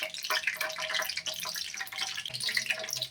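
Mustard seeds spluttering and popping in hot oil for chitranna, a dense crackle of sharp, irregular pops and sizzle running steadily throughout, close by with no talking.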